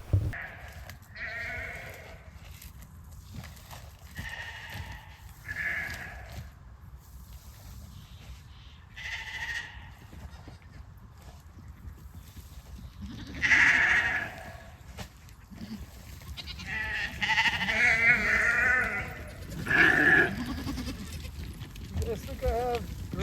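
Sheep and goats bleat intermittently in a pasture, several cries from nearby and farther off rising over a steady outdoor background across more than twenty seconds.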